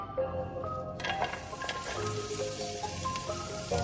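Onions frying in olive oil in a pan, a steady soft sizzle and crackle running throughout with occasional faint clinks, no talking.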